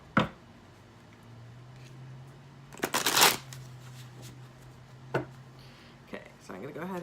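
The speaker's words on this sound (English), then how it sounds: "So I'm going to go ahead and shuffle a few times" Tarot cards riffle and snap in a few quick bursts, the loudest one crisp and close, with soft handling noises in between.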